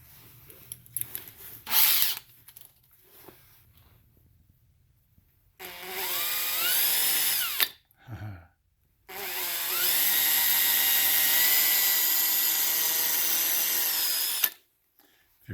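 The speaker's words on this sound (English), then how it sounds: "put a little piece of electrician's tape on the drill bit to mark where my 1/4 inch depth will be" A power drill whines in several bursts as it bores holes into a hoof boot, with a short burst followed by two long, loud sustained runs and pauses between them, no talking.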